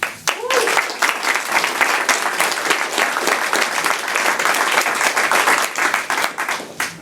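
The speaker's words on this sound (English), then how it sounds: "We appreciate it and applaud you." Classroom audience at a university final pitch event breaks into loud, sustained applause, dense clapping lasting several seconds with a brief voice at the start.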